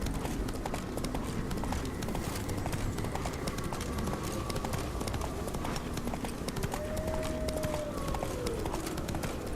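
Rapid hoofbeats of a galloping horse in the video game The Witcher 3 pound continuously and close, with a faint rising whistle-like tone partway through.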